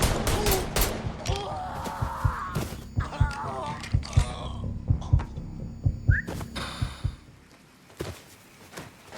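Gunfire in Mafia 3 cracks out in repeated sharp bursts and scattered single shots, loud and close, mixed with game sounds and talking voices.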